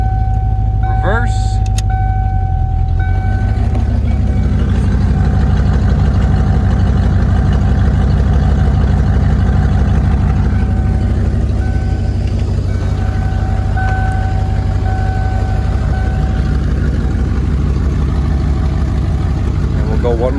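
A 1993 Ford Mustang GT 5.0L runs stationary while its AOD automatic transmission is shifted through the gears, the engine idling steadily and loudly throughout with a brief whine early on.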